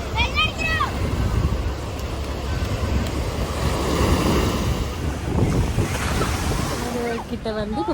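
Sea waves breaking and washing in at Thiruchendur beach, a steady broad surf roar with wind buffeting the microphone throughout.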